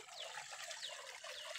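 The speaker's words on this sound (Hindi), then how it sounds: "ये पानी बह रहा है" Spring water flowing in Sumbal forest, a faint, steady trickle with a few birds chirping over it.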